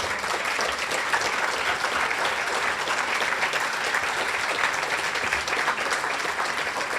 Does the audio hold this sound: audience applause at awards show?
yes